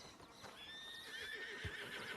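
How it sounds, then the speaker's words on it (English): Horses in a Wild West roleplay video game whinny with a shrill, wavering neigh while hooves clip-clop softly beneath, all fairly faint and lasting about two seconds. "I heard horses and I fucking panicked"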